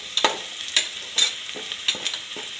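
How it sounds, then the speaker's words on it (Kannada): Turmeric and salt being stirred into sprouts masala frying in a pan, with a series of scraping spoon strokes at an irregular pace over a soft background sizzle, no voices. "ರುಚಿಗೆ ತಕ್ಕಷ್ಟು ಉಪ್ಪು ಹಾಕ್ಕೊಂಡು ಹಾಗೆ ಸ್ವಲ್ಪ ಕಲಿಸ್ಕೊಡಿ."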